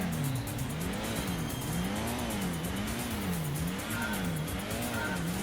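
A 1989 Nissan Skyline, a front-engine rear-drive car, at a race start in the PS1 game Gran Turismo: a steady synthesized engine drone whose pitch sweeps up and down in regular waves as it revs through gears, continuous and with no voices.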